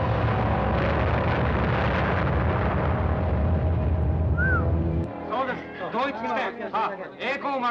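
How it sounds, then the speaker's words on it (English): A big explosion from the 1954 Godzilla film roars as a loud, broad rumbling blast for about five seconds, then cuts to people speaking. "Definitely seemed like there was a big explosion"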